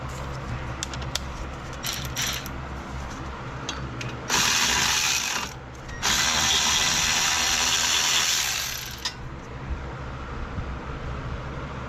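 A ratchet clicks in quick bursts on brake caliper bolts on a 2013 Chevy Cruze front brake job, close and metallic, then two longer hissing stretches join in before the clicking returns, no talk.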